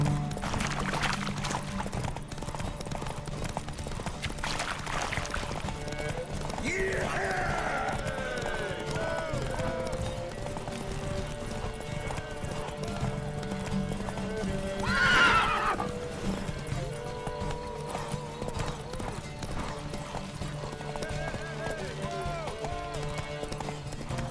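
Roach the horse in The Witcher 3 gallops with rapid rhythmic hoofbeats, punctuated by loud neighs and whinnies, while voices talk over the racing sounds throughout.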